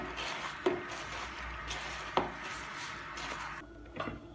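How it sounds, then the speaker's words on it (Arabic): Fish pastilla filling being mixed in a bowl, soft continuous stirring and squishing with a few sharp clinks of utensil on the bowl, quiet and close. "دابا غادي نخلط هاد المكونات هادو."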